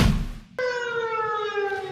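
A loud, steady siren sounds to mark the start and close of election day in Girón, beginning abruptly after a burst of noise and holding a sustained, harmonic tone to the end.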